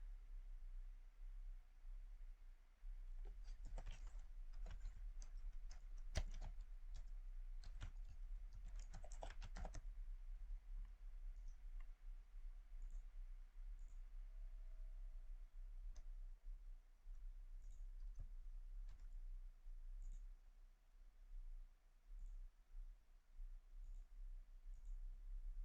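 Fingers typing an email address and password on a computer keyboard during website sign-up, a run of quick clustered keystrokes in the first ten seconds followed by scattered faint clicks over a low steady hum, with no talk.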